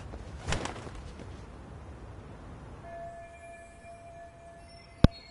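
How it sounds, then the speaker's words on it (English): A pigeon cooing in the video game Lost Judgment, a soft burst of cooing near the start over quiet game ambience, followed by a faint steady tone and a sharp click at the end. "And Cardi B's sound effects from this fucking pigeon."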